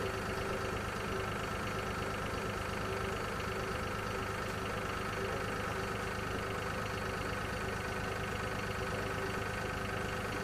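A tractor towing a seeder through a field in Farming Simulator 2013, its engine droning in a steady, unbroken loop at even volume throughout, with no voices.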